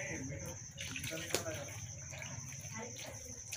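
Water poured into a bowl of vegetable-and-flour batter for savoury lauki (bottle gourd) chilla, a soft steady trickle running throughout at close range, with a voice speaking over it.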